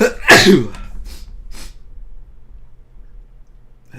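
A single sharp human sneeze near the mic, an explosive burst followed by a short tail and a couple of faint breaths, then quiet room tone.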